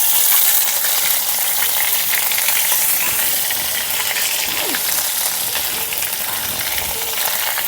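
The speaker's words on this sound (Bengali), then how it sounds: "শুকনো লঙ্কাটা একটু ভাজা ভাজা করে নিয়ে দিয়ে দিলাম একটু কালো জিরে" Dried red chilli and nigella seeds fry in hot oil for fish curry, giving a steady close sizzle with faint crackles and occasional stirring clinks throughout.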